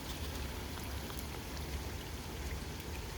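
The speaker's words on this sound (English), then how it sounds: "Okay, the rain just calmed down." Steady rain during an early morning thunderstorm, a dense even patter and pour with no breaks, fairly faint and close, without voices.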